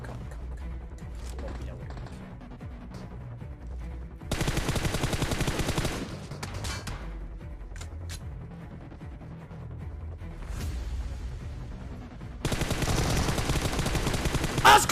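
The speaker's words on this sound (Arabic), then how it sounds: "في واحد قاعد يطلق بعيد." Bursts of rapid gunfire in an online battle royale video game, several dense volleys sounding at a distance, with someone talking in Arabic between them.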